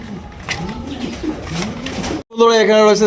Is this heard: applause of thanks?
no